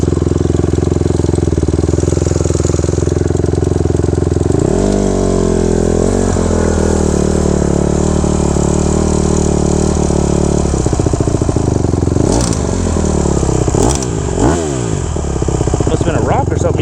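A 2014 Honda CRF 150R dirt bike engine runs loud and close, idling steadily and then revving up and down in several rising and falling sweeps, with a voice speaking over it at times.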